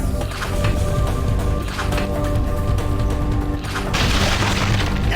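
A rocket explosion in the video game Resident Evil 4, Wii Edition: a loud, continuous booming roar with crashing debris, holding steady over several seconds amid dense game noise.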